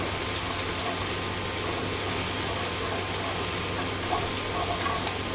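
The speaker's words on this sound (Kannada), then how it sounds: "ಸ್ವಲ್ಪ ಹೀಗೆ ಬಾಡಿಸ್ಕೊಳ್ಳೋಣ ಖಾಲಿ ಫ್ಯಾನಲ್ಲಿ" Bitter gourd dry-roasting in an empty pan gives a steady, soft sizzle and crackle with faint scattered ticks, quiet and continuous throughout.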